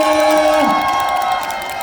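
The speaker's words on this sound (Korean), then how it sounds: "이분들께 감사드린다고 박수 한 번만 부탁드리겠습니다." Fan club crowd at a food festival in Mokpo cheering and applauding, a dense steady roar of voices and claps sustained for the whole short stretch.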